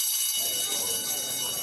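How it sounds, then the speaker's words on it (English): A school bell or electric alarm bell rings continuously and loudly at the end of class, a steady sustained clang that fills the space, with background noise beneath it. "when the bell rings to end class"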